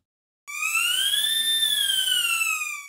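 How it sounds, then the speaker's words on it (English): Synthesized supercharger whine for a car engine, built from additive synthesis with filtered noise: a steady, strident tonal whine that starts abruptly and rises slightly in pitch before gently falling, heard alone and loud. "I also made another MetaSounds graph to synthesize the supercharger whine for the engine"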